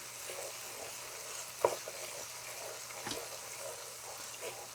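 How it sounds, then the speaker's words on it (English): Tomato paste sautéing in a pan for Persian gheimeh, a soft, fairly faint sizzle with a couple of brief utensil scrapes. "We tried to saute tomato itself."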